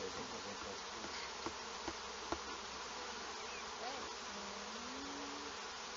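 Honey bees buzz steadily around an open hive at a teaching apiary in the first hive inspection of the year, a dense, continuous hum with a few individual bees droning past close by.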